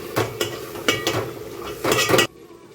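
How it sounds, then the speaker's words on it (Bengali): A ladle stirs spiced handi mutton curry in a pot, giving several close scraping and clinking strokes in an uneven rhythm with no talking, then stopping abruptly near the end. "মিক্স করে দেব।"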